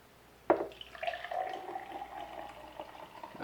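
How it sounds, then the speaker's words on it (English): Fresh chlorophyll juice is poured into a cup at home, starting with a sharp splash and then a soft, steady trickle that fades out, heard close and quiet with no talking. "I'm going to pour me a cup."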